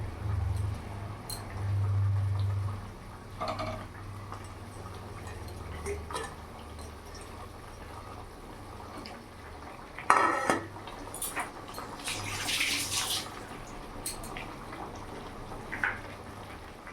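Chandana hilsa pieces are dropped one by one into a boiling mustard gravy, with clinks and clatters of a utensil against the pot and soft bubbling, close and fairly quiet, with no voices.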